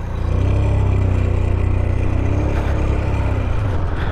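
Motorbike engine droning loud and close while riding on a road trip from Purulia to Kolkata, a steady continuous roar that fades slightly near the end.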